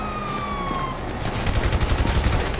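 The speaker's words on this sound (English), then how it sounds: "you hear that? Siren!" In the video game Grand Theft Auto V, a wailing police siren tone sweeps down and fades, then a burst of rapid gunfire and low rumbling takes over, loud and chaotic.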